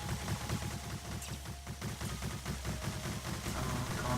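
Rapid gunfire in the video game Stellar Overload, a dense, even stream of repeated shots like a fast automatic weapon, continuous and fairly quiet throughout.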